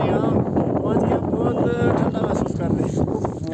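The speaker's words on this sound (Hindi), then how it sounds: "तो बहुत ही ठंडी हवा चल रही है इधर" Cold wind blows hard across a snowy mountain pass at Peer Ki Gali during heavy snowfall, buffeting the microphone with loud, constant roaring gusts while voices carry faintly underneath.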